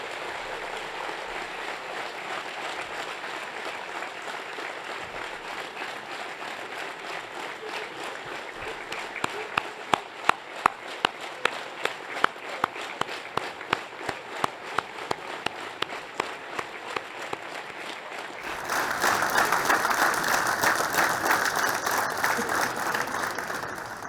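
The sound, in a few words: crowd applause greeting war veterans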